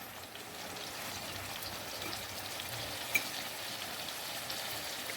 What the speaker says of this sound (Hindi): यहाँ पे हम ये 3 स्पाइसेस डालेंगे और इसको अच्छे से भूनेंगे 2 से 3 मिनट तक।